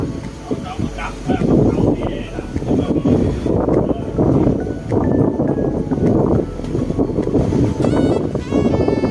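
A boat travelling down the Mekong River in Laos during a storm, with constant loud wind rush and engine or water noise throughout, and someone speaking over it.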